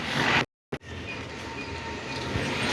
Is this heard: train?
yes